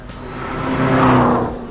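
A 2011 Cadillac engine revs at a driver training event, rising to a loud, throaty peak in the middle and then easing off, heard up close with no talking.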